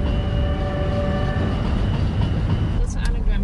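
A passenger train rumbles along the rails with a loud, steady low roar and a few faint tonal whines, heard from close by, with a brief clatter near the end.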